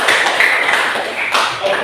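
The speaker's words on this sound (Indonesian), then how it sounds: "Kita memberikan aplaus kepada Fridelin" A school class applauds a student named Fridelin, dense and steady clapping from many hands close by that lasts the whole short moment.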